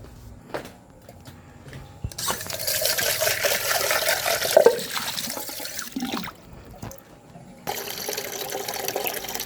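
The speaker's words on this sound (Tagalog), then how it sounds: "kukuha tayo ng tubig at hugasan muna natin ito" Running water splashes and gurgles as ginger is washed for salabat, a steady rushing flow that starts and stops in a few bursts, fairly close and loud, with no talk.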